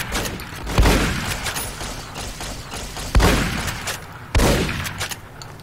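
Gunfire in the video game Fallout: New Vegas: three separate loud shots spaced a couple of seconds apart, each with a booming decay over a dense ongoing game soundscape.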